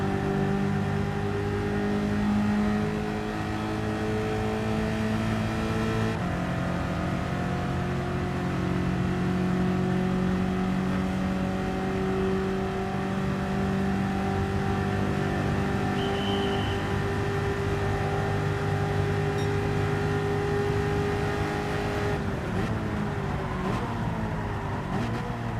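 Race car engine in Gran Turismo 7 holding a loud, steady high-revving drone during a practice lap, with gear shifts stepping the pitch and no talking over it.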